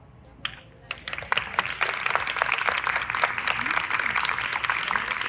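Scattered claps build into steady applause from a small group at a middle school debate, sustained and moderately loud, with no talking over it.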